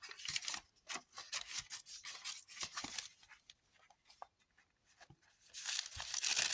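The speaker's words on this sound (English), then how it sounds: "Greaseproof paper, nice and crinkly." Greaseproof paper being handled in a junk journal, crisp crinkling and rustling in irregular bursts close to the microphone, with quieter gaps midway and a louder flurry at the end.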